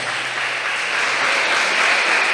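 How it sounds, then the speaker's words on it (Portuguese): Church congregation at a celebration service clapping in praise, a thick, continuous wash of applause filling the room at a steady, fairly loud level. "por favor, aplauda a Jesus Cristo"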